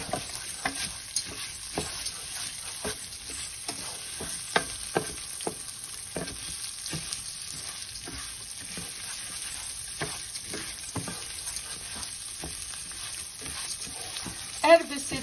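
Rice fries in a pan for a leftover-fish risotto, sizzling continuously while a utensil scrapes and stirs in repeated close strokes.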